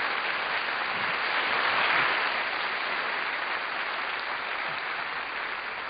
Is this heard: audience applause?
yes